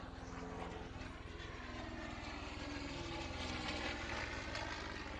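Continuous, loud roar of fighter jets passing over a golf course, a dense broadband rumble that holds steady for several seconds with no talk over it.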